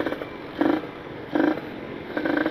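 A Kawasaki Ninja RR two-stroke motorcycle, engine still cold and fitted with a B9 ECS spark plug, is blipped in three short rev bursts over a rough idle, close by.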